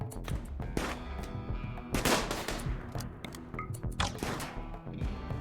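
Dense gunfire from a RimWorld colony battle, including a heavy SMG, with rapid overlapping bursts and sharp impacts layered over continuous game sound, loud and busy throughout.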